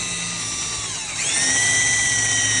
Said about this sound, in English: we just basically re-drill the hole to replace